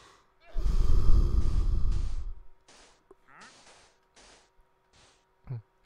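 A long, breathy yawn of about two seconds, near and fairly loud, followed by quiet scattered small noises and a short sharp breath or sound at the end.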